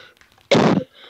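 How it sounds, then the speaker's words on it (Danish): A single harsh cough bursts out close to the mic during a Minecraft PvP session, a loud noisy blast lasting about a third of a second, with quiet background sound around it. "Og undskyld, jeg hoster også noget"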